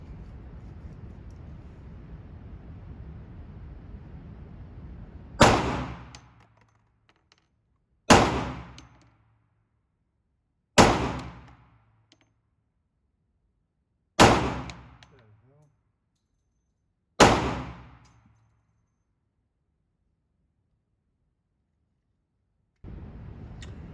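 Five test shots from a Zulisy Owl 10mm pistol fitted with a red dot, each a sharp, loud crack with a short decaying tail, spaced about three seconds apart over quiet background.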